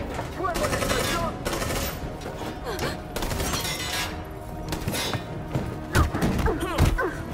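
Gunfire in the video game Detroit: Become Human, dense bursts of shots and heavy thuds amid a chaotic battle mix with music, continuing loudly throughout with a few sharper impacts near the end.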